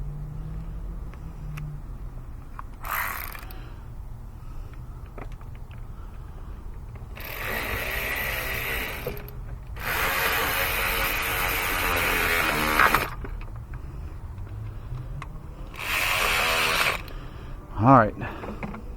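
Bursts of ratchet clicking on a universal swivel socket, working on the thermostat of a 2014 Chevy Cruze with the 1.4-liter four-cylinder, come in several short runs between quiet pauses with handling noises.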